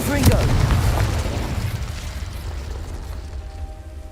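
A Confringo explosive spell goes off in Hogwarts Legacy with a loud booming blast that rumbles and fades over a few seconds. Voice-like chatter rises at the start.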